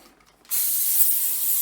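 Ferret spray is released from a spray bottle as a sudden, steady hiss that starts after a short quiet moment and continues loudly to the end.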